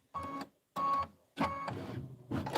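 A sewing machine stitching a quilt block runs in three short motorised bursts, the last one longer, with brief pauses between them and no talk over it.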